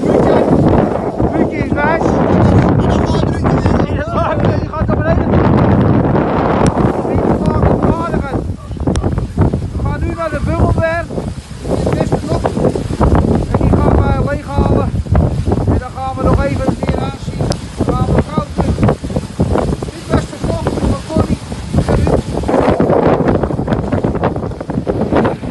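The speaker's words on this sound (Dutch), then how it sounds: "De telefoon die waait zo wat." Stormy wind in Amsterdam blows hard across a handheld phone's microphone, a loud, continuous rumbling buffet lasting throughout while people talk over it.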